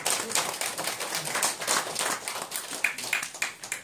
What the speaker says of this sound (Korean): 박수 한번 올려주세요.